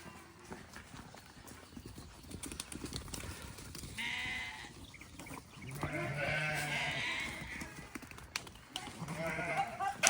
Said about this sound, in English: So there is a daily migration of sheep from their paddocks back to the barn